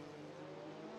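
Group C race cars lapping the Bikernieki high-speed circuit in a sim racing game, a loud continuous engine drone with no talk.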